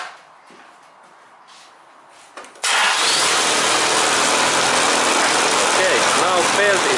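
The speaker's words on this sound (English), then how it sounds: "next I start this engine and let's look that what happens then" A quiet mechanical hum, then a car engine with a too-loose timing belt cranks and catches, settling into a steady loud idle close by.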